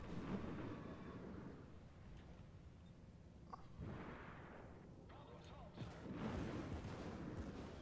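A warship's secondary guns fire in the World of Warships video game, sounding as a series of deep booming blasts that swell and fade amid a rumbling battle din, with several heavier bursts toward the end.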